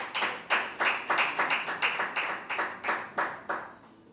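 A church congregation claps in a steady, rhythmic beat, about a dozen sharp, evenly spaced claps that are fairly close and loud, with no voices over them.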